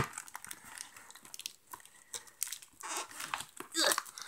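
Plastic tabs on toy packaging crinkle, snap and rustle as a toddler Ariel doll is freed from its box, with quick irregular crackles and one sharper burst near the end.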